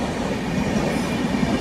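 A Dahanu local commuter train rolls along the rails in the early morning near Virar, giving a loud, close, continuous rumble with faint wheel clatter and no voices.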